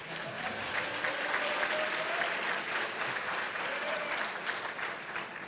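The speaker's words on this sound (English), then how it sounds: "Gotta give an applause for back-to-back state champions" Steady audience applause at a school academic excellence banquet, a continuous wash of many hands clapping for several seconds at moderate loudness, with faint crowd murmur and no clear speech.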